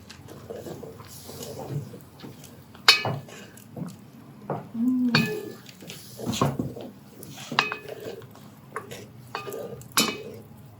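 Spoon scraping and clinking against a cast-iron Dutch oven while cranberry sauce is stirred, a run of irregular metallic clinks and knocks, moderately close and fairly quiet, with no talking.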